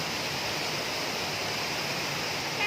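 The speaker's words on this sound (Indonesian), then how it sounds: "Demikian teman-teman perjalanan kita ke wisata air terjun Tirtosari yang ada di Kabupaten Magetan." Tirtosari waterfall in Magetan, behind Telaga Sarangan, pours in a steady, dense roar of falling water, loud and unbroken with no voices.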